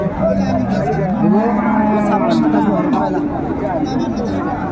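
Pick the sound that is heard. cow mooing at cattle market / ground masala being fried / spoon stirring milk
cow mooing at cattle market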